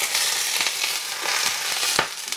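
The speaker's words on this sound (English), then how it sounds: "You hear it sizzling, and that brings out the flavor in the fish." Smoking-hot peanut oil poured over a steamed bass sizzles and crackles in a dense hiss, close and fairly loud, for a few seconds with no talk.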